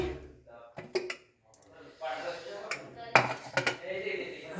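A pressure cooker lid is opened after cooking rajma, metal clanks and clatter of pot and lid in a home kitchen, a few sharp knocks amid handling noise, with a voice talking underneath.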